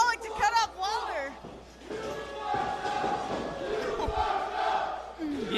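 Wrestling crowd at a T2T Academy Pittsburgh show cheering and shouting continuously, with loud yells and thuds from the ring mixed into the steady roar.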